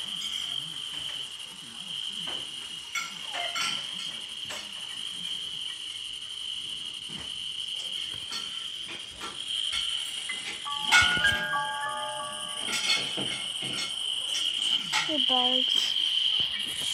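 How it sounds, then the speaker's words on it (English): Bugs chirp loudly and steadily in a high, continuous trill that runs all the way through. Game-like tones and small clicks sit on top, and a voice talks underneath. "Bugs."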